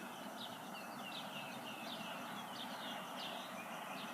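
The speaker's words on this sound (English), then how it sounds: "The birds are singing." Birds singing outside a balcony in the early morning, faint repeated chirping phrases in a steady rhythm over a constant background hiss, distant and soft with no voices.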